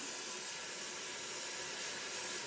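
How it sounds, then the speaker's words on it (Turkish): Water filling an unused container for a bath, a steady, even rushing hiss that runs throughout without a break, moderately loud, with no talk. "Evet, suyumu dolduruyorum şu anda."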